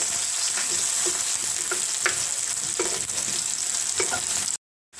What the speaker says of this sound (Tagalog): Habang ginigisa ko itong sibuyas